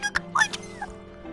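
Minecraft dog giving short high whimpers and yips, a few brief cries close by over quiet game background noise.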